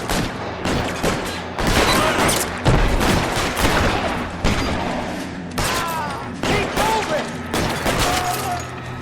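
Gunfire in the video game L.A. Noire comes as repeated loud, close shots and bursts of a firefight, scattered across several seconds, with someone talking over it.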